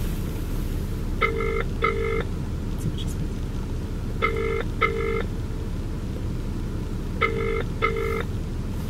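A telephone ringback tone sounds in three paired bursts at steady intervals, clear over a constant low rumble of background noise, as a call is placed.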